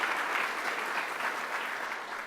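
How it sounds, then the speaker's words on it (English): A crowd claps in sustained applause, a dense even patter filling the whole stretch before easing slightly at the end. "let me give them a round of applause"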